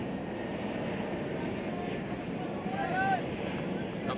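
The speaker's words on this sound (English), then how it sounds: "You can hear that airplane." A low-flying airplane passes over a cricket ground, its engine a steady broad rumble that swells slightly toward the end, heard at moderate distance with a faint whistle rising above it.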